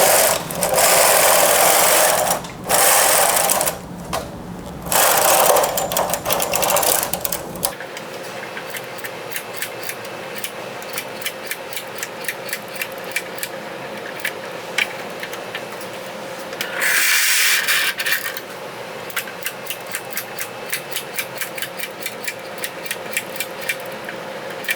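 A knitting machine's carriage is pushed back and forth knitting rows of a simple drop-shoulder sweater, giving loud sliding, rasping passes at the start followed by a long stretch of rapid repeated clicking at a steady rhythm, with no talk.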